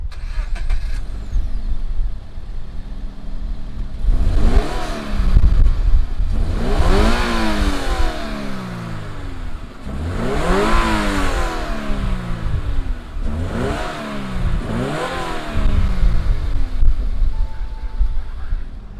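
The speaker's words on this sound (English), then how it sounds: "Let's go ahead and fire it up and see what that flat 4 sounds like." A 2019 Subaru BRZ Series Gray flat-four engine cranks and catches, then revs repeatedly in rising and falling sweeps, loud and close, with a few seconds of idle between bursts.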